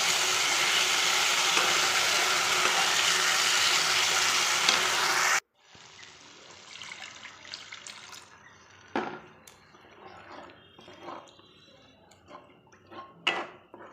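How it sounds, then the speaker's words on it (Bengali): Jackfruit kofta curry masala sizzles with a loud, dense, steady hiss for about five seconds. It then cuts abruptly to a much quieter simmer broken by scattered clinks and small bubbling pops. "এবার আমি এর মধ্যে জল দেবো তো জলের পরিমাণ তো অল্পই দেবো"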